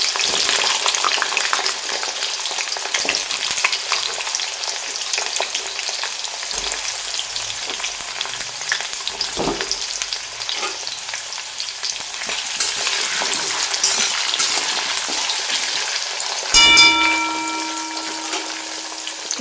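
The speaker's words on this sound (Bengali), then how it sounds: "আগে পেঁপে আর আলুটা হালকা একটু ভেজে নেব" Papaya and potato pieces sizzle steadily while being lightly fried in a pan, a continuous close crackle with occasional stirring and a brief metallic ring near the end, no voices.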